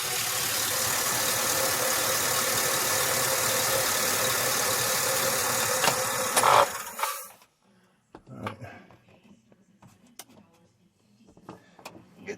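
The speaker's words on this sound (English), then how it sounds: "Okay, I gotta turn the engine off." A car engine idles steadily and fairly close for about seven seconds, then cuts off, leaving near silence broken by small clicks and handling noises.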